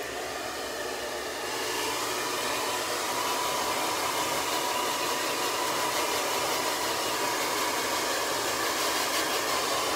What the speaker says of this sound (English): as I'm blow drying.